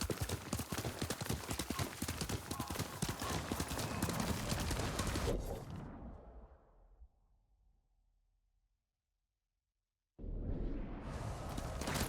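Horse hooves clip-clop in a fast, steady gallop in the video game Ghost of Tsushima, loud and close, then fading into several seconds of silence before the hoofbeats return abruptly at full volume.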